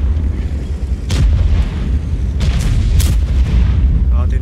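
Repeated heavy tank cannon shots boom through a World of Tanks battle, several loud blasts landing amid constant rumbling engine noise, with players chatting over voice comms.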